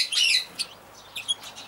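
Young Neophema parrots chirp in an aviary, a burst of high bright twittering followed by a few short separate chirps, fairly close and alone without talk.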